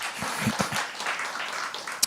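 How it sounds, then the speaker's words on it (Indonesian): Congregation applause during a church service, a dense, steady wash of clapping with a few sharper individual claps standing out, fairly close and continuous throughout. "berikan tepuk tangan kita untuk Tuhan kita"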